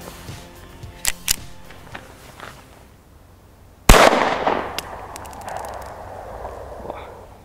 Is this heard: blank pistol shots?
yes